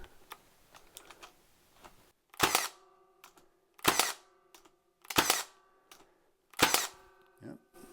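A Milwaukee GEN II cordless nailer fires in single-shot mode, four loud, sharp bangs roughly every second and a half, each with a brief mechanical clack and ring, after quieter handling clicks.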